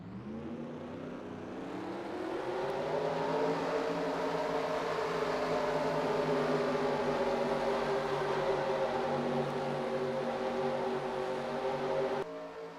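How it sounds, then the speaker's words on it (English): A field of stock car engines fires up and idles together in a racing video game at Pikes Peak, a loud, steady droning rumble that holds throughout and cuts off abruptly near the end. "Drivers, start your engines!"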